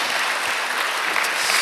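A church congregation at a Sunday worship service breaks into steady, dense applause, many hands clapping together at close range with no voices over it.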